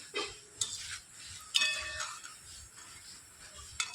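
Potato bhujia sticks being stirred while frying in oil in a pan: a utensil scrapes and clinks against the metal in a few distinct taps, over a faint, close sizzle.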